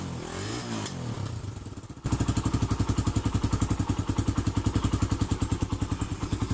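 A carbureted Suzuki Raider 150 motorcycle engine starts up abruptly and runs with a loud, steady, throbbing pulse, close by, with no one talking.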